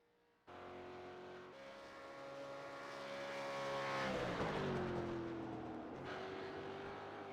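A V8 Supercar race car drifts around Blanchimont at Spa-Francorchamps, its engine note holding a loud sustained drone that swells, dips in pitch, then steadies.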